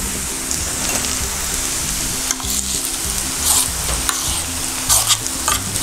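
Eggplant is stirred in a pan with onions for spicy bharit, a continuous close sizzle with rhythmic scraping strokes of a spatula and a few louder clatters near the end.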